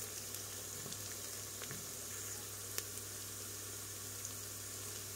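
Onions and tomatoes sauté in a pan for dry bean stew, giving a soft, steady sizzle with faint crackles throughout, close but quiet and heard alone.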